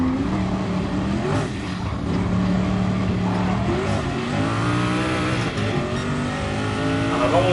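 A race car engine holds a steady, loud drone under light braking through a curve, its pitch sliding down then climbing again as it rolls round, close and continuous throughout.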